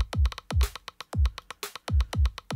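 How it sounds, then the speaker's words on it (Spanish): Rim shot hits programmed in Logic's Drum Machine Designer click out a quick, steady rhythmic pattern, crisp and close, layered over a punchy low thump on the beat, with no voices. "Bueno, estos son los rims pueden ir así."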